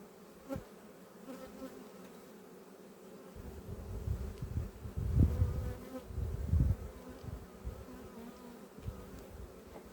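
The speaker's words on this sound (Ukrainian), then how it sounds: "Карніка хоче роїтися." Carniolan honey bees about to swarm hum and buzz near the hive, a low droning that swells louder and more agitated midway, with individual bees passing close to the microphone.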